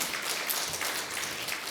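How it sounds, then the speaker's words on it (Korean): A church congregation welcoming members applauds with brief, dense, steady clapping from many hands, with no talking. "박수로 환영합니다."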